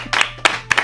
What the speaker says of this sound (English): Let's give Donnie a round of applause.